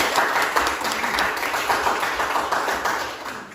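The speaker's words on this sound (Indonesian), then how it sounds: "Kasih aplaus dulu dong untuk Satrio" A classroom of students applauds a classmate, a dense, steady patter of many hands clapping at once that carries on for several seconds without pause.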